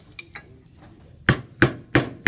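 A hammer strikes annealed metal over a hollow to form a dome, with two lighter taps followed by four loud, evenly spaced ringing blows close up.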